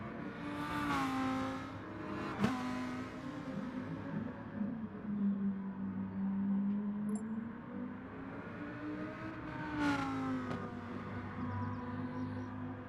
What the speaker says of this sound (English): have a look at some of these cars going around some of these corners